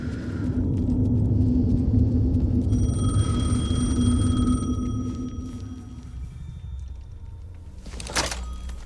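In the video game Alan Wake 2, a telephone's electronic ring tone sounds faintly over a heavy low rumble and ambient drone, followed near the end by a sharp metallic clatter.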